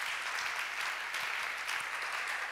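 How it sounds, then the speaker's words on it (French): A church congregation claps for the Lord, a dense, steady wash of many hands applauding together at moderate distance, continuous throughout with no voices standing out. "Can we clap for the Lord?"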